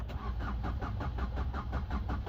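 Starter cranking a Maruti Suzuki Ertiga diesel engine without it catching, a steady rapid rhythmic churning that carries on evenly and close by with no firing or rev-up.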